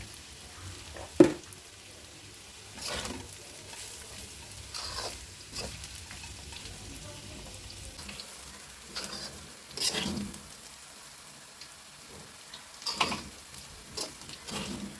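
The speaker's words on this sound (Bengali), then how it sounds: "নিচে নেড়ে নেড়ে ভাজিটা করতে হবে তাহলে বেশি মজা হবে" Potatoes and chopped onion stir-fried for a potato bhaji, with soft scraping stirs recurring every few seconds over a faint, steady sizzle and no talking.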